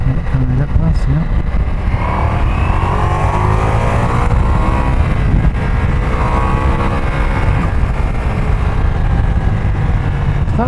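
Ducati Multistrada V4S motorcycle ridden at low speed in first gear on the Gurnigel Pass in the Alps, a steady close engine drone mixed with heavy wind rush, with a rider speaking over it.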